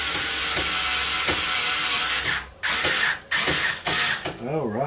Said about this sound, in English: all right, let's tighten this up.